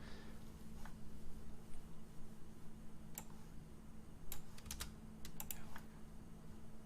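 Scattered keystrokes on a computer keyboard, a few isolated clicks then a quick burst of taps, faint over a steady low electrical hum.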